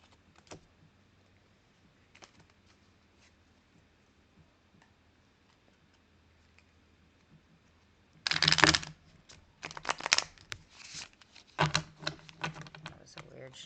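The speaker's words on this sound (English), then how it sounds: "That was a weird shuffle." Tarot cards being shuffled: after a quiet start, bursts of crisp riffling and slapping card clatter come close and loud in uneven clusters, with faint talk in the background.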